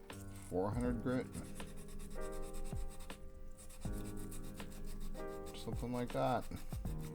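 Sheets of 400 grit sandpaper rubbing over a model part for an NX-01 refit build, producing steady close scratchy strokes repeated in a back-and-forth rhythm, with someone speaking briefly over it.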